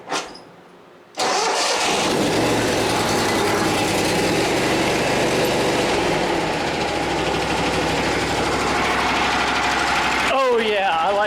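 A Kohler two-cylinder engine on an Exmark Lazer Z zero-turn mower, fitted with a new muffler, catches after a short crank and settles into a loud, steady, close-up idle that continues to the end.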